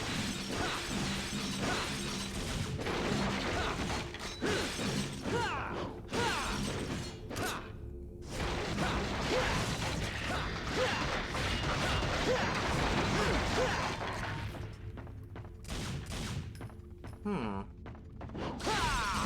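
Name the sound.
glass bottles smashing in video game Devil May Cry 3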